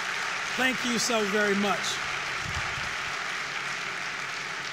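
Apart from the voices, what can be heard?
audience applause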